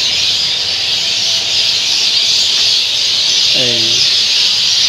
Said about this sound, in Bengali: সন্ধ্যাকালীন সময় পাখিরা সব এখানে আসছে, কিচিরমিচির আওয়াজ করতেছে।